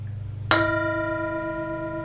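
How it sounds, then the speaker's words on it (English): A single meditation bell is struck once during a mindfulness service, its clear ringing tone sustaining and slowly fading, close and loud against near silence. "Enjoy the sound of the bell."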